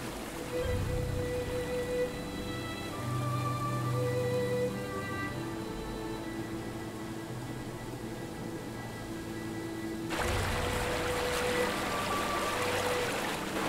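Steady flowing water from the Operencia: The Stolen Sun video game, a continuous trickling, stream-like wash under soft game ambience and tones, growing brighter and splashier near the end.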